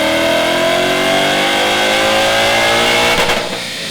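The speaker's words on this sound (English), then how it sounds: "Here I sit in a 2013 Mustang GT that has a VMP supercharger" A 2013 Ford Mustang GT fitted with a VMP supercharger revs up hard and close, its engine pitch climbing steadily for over three seconds before the throttle lifts and the sound drops away.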